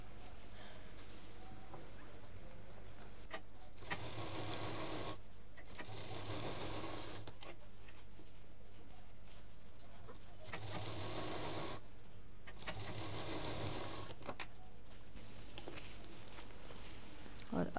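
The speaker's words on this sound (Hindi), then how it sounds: "पहले ऊपर का सिलेंगे फिर नीचे का सिलेंगे।" A sewing machine stitches the top and bottom seams of a square sling bag along a zipper panel. Its steady whir comes in several long runs with short pauses between, close and loud, while a person talks over it.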